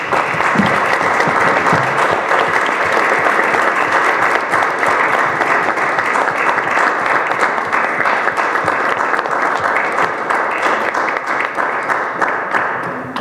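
An audience at a public school board business meeting applauds continuously for about thirteen seconds, dense and loud, holding steady before tapering slightly at the end.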